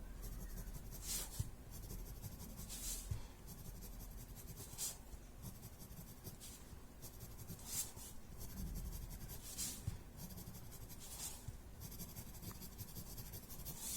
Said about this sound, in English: So putting pencil on the border.